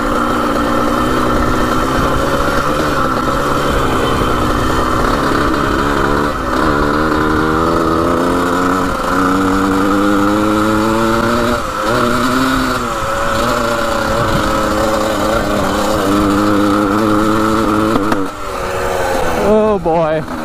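A small 1980 vintage racing dirt bike engine idles and revs steadily and loudly nearby for a long stretch, its pitch rising and falling as it slowly winds up.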